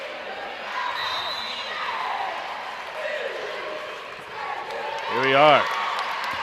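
A crowd murmurs and cheers steadily in the stands at a high school state basketball tournament, picked up by a courtside mic, with a voice speaking briefly near the end over the din.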